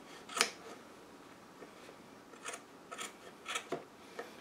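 Sharp scissor snips trimming upholstery fabric along a wood edge of an antique Eastlake chair, a loud one early on, then several lighter cuts in an uneven rhythm, close by in a quiet room.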